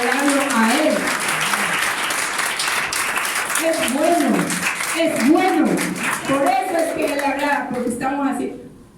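A church congregation at a Saturday service claps and applauds in a dense, sustained wash of hand claps, while a voice speaks over it with rising and falling tones throughout before the clapping thins out at the end.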